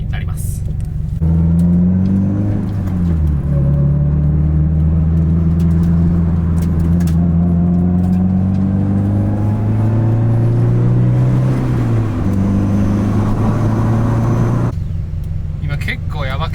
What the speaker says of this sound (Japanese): 今結構やばくて、もうなんかアイドリングも安定しないんだけど